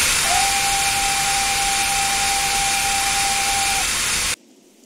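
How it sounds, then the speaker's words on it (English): A steam engine's long, steady whistle sounds for about four seconds over a loud background hiss, then cuts off abruptly. "he was interrupted by William's loud whistle"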